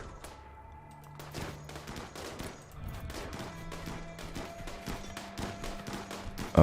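Rapid volleys of gunfire crackle through a RimWorld battle, dense bursts of shots and thuds repeating steadily with a louder blast at the very end, no talking.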